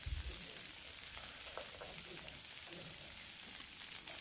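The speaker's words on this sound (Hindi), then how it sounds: "प्याज को हम मीडियम फ्लेम पर भुनेंगे" Onion and green chili fry in a pan over a medium flame, giving a soft, steady sizzle with a few faint stirring scrapes.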